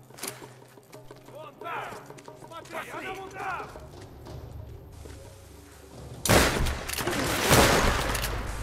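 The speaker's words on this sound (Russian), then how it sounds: "Не знаю, кто стреляет." Gunfire in the video game Tomb Raider, a sudden loud burst of rapid shots near the end after quieter ambience, with people talking earlier.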